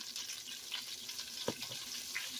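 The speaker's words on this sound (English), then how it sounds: "The butter. It's melting pretty good." Butter melting and softly sizzling in a pan while chicken pasta is prepared, a steady faint hiss with one brief clink, close by and without voices.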